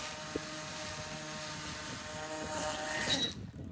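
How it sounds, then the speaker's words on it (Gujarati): A toy camera drone with a movable camera starts up and flies, its propellers giving a steady buzzing whine throughout, close by and fairly loud, with a brief click near the start and a rising pitch toward the end. "આ ડ્રોનને ચાલુ કરાયું છે હવે"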